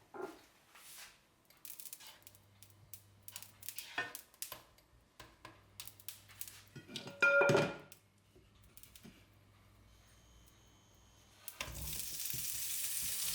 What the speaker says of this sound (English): Put a bit of lard in a hot pan and start with the sausage.